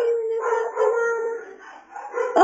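A pit bull makes drawn-out, wavering howling and growling vocalizations in its sleep, close and fairly loud, rising and falling over a couple of seconds with no talking.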